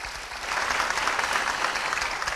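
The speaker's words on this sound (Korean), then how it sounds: "박수 부탁드립니다, 여러분." An audience at a traditional Korean music talk concert breaks into warm, steady applause, a dense sustained patter of clapping swelling and holding for a couple of seconds.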